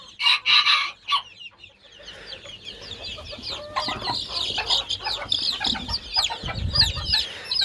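Young chicks cheep and peep in a dense, continuous chatter while a hen clucks loudly up close at the start, with a few low thumps and rustles near the end, no voices.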